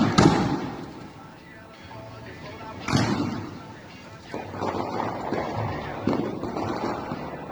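Gunfire exchange during a weekend shootout in the Chico Mendes neighborhood of Santa Catarina, resembling fireworks: several sharp, distant bangs at irregular intervals, echoing over a background of rumbling noise.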